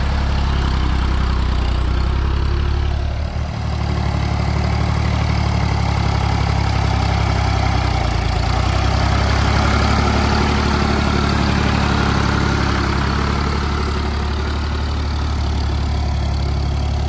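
A Ford 3000 tractor's diesel engine, running with some smoke, idles steadily and loudly close by with an even, low rumble and no change in speed.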